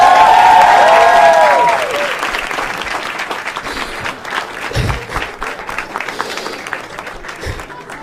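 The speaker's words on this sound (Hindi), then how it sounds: "एक बार जोर तालियां भाई के लिए यार." An audience at a show bursts into loud applause that starts dense and gradually thins out, with cheering and a few voices under the clapping.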